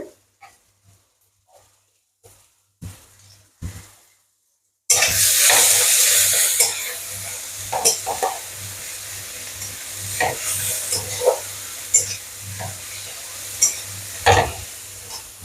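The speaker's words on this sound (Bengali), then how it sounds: "পেঁয়াজটা একটু ভাজা ভাজা হোক।" Onions frying in a pan with stirring, used in cooking a tilapia fish dish with kasuri methi; after a quiet start, a loud, steady sizzle begins with intermittent scraping and stirring clatter close by.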